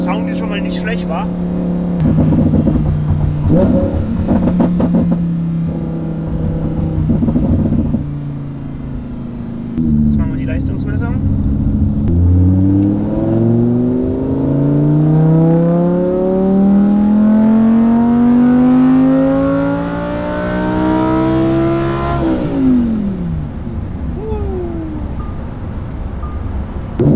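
A Lamborghini Huracan LP610-4 with a Stage 1 tune is driven, its engine idling and burbling before revving and accelerating in a long rising howl that peaks near the end, loud and close, with brief pauses between pulls.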